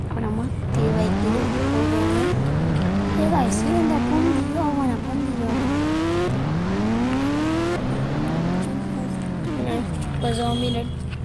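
A motorbike's engine whines and revs up and down through gear changes as it is ridden in the mobile game Indian Bike Driving 3D, a continuous loud drone under steady talking.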